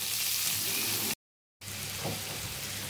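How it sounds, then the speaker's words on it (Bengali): Onions frying in a pan, a steady bright sizzle close up that briefly cuts to silence and then resumes with the same even crackle. "দিয়ে একটু লাল করে ভেজে নিচ্ছি পেঁয়াজটা"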